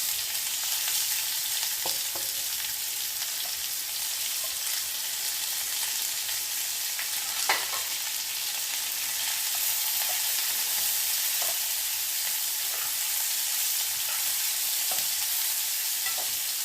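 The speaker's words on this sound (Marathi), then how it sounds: "मसाला चांगला भाजून घ्यायचा आता कांदे टाकत आहे" Onions sizzle in hot oil with roasted spices in a pan, making a steady, soft frying hiss with occasional faint stirring clicks and no voices.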